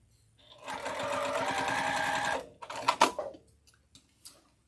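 A sewing machine runs in one steady burst for about two seconds, then stops, followed by a few clicks and knocks.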